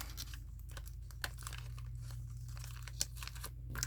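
Paper flowers are folded over by hand, producing close crinkling and rustling paper sounds with a few sharp tearing-like snaps, no speech.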